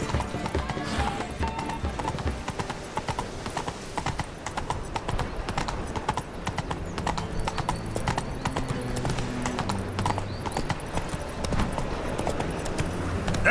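Roach, a horse in The Witcher 3: Wild Hunt, gallops with a steady, close clip-clop of hooves over continuous game ambience and music, with a brief whinny in the mix.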